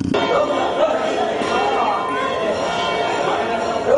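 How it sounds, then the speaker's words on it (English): The Nallur Kandaswamy temple bell in Jaffna rings at dawn with lingering metallic tones over a busy wash of crowd chatter and ambient noise. "Sweet sound of Nallur temple's bell daily begins its day at dawn"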